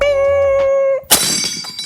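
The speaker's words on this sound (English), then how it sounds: "I'm breaking glass." Glass breaks with one sharp, loud crash and scattering shards after a sustained tone cuts off, with no talk over it.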